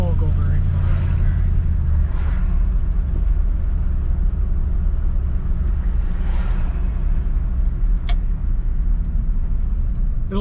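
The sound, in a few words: 1959 Chevrolet Bel Air sedan driving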